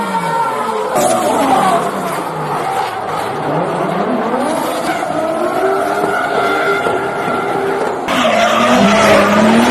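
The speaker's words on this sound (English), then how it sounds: "Pretty sick drift action" Several cars drift with loud, sustained tire squeal and skidding under revving engines, the pitch sweeping up and down, close and continuous throughout.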